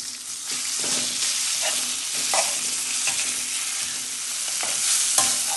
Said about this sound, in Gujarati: આમ ભાત નાખી દઈશું આપણે થોડો.